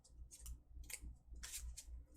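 A deck of trading cards in plastic sleeves is shuffled close up, giving a series of short, crisp, slithering riffles with quiet gaps between them and no speech.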